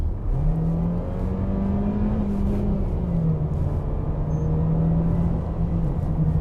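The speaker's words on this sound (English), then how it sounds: "This is not the kind of sound you want to hear from any engine, and especially an engine in a Mercedes." A 2019-2020 Mercedes-Benz A-Class engine drones loudly and steadily as it accelerates downhill, a low strained hum rising slightly in pitch, close up and without speech.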